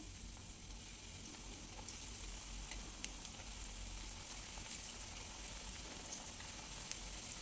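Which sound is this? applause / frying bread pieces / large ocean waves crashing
frying bread pieces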